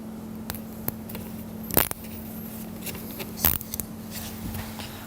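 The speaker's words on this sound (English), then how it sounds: "Go ahead and put that zip tie around it." Zip tie being fastened around a fuse holder for a motorcycle amplifier near the battery, two short ratcheting zips with small clicks over a steady low hum, close and fairly quiet.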